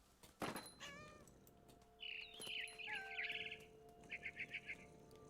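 A cat meows in the video game What Remains of Edith Finch, a few drawn-out, wavering meows, then a quick run of short chirping bird calls amid faint game ambience, with no speech.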